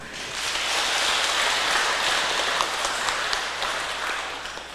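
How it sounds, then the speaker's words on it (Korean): An audience claps after a choir's singing: a steady, dense wash of applause that swells in and holds for several seconds, with no voices over it. "박수 한번 칠까요?"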